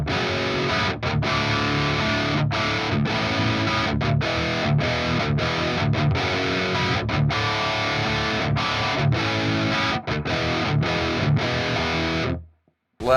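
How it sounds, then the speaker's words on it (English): Electric guitar through a Freeman Fluff amp simulator at a medium, British-style crunch plays steady chords and riffs, loud and alone, ending in a brief silence near the end. "just kind of a medium crunch tone, more of a British vibe."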